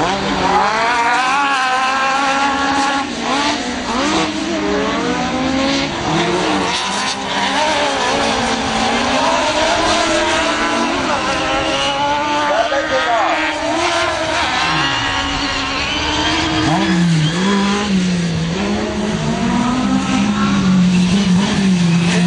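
Autocross race cars at a German championship round in Seelow, driven hard through a safety chicane, engines loud and continuous, revving up and down with gear changes and tire squeal.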